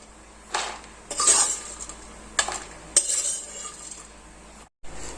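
Cashews and almonds are dry roasted without oil in a pan, giving soft scraping stirs and a few light clinks of a utensil against the metal, close and quiet.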